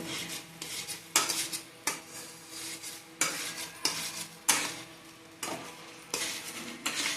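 Homemade egg curry stirred briskly in a pot with a spoon, a rhythmic run of metallic scrapes and clinks about once a second over a faint sizzle, close, with no talking.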